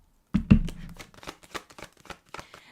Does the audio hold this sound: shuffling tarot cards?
yes